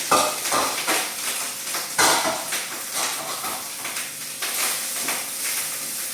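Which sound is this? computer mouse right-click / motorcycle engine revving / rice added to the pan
rice added to the pan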